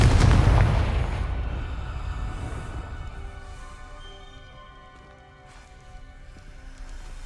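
A Confringo blasting spell goes off in Hogwarts Legacy with one loud, heavy boom at the start that rumbles and fades into a long tail while faint game ambience and tones linger.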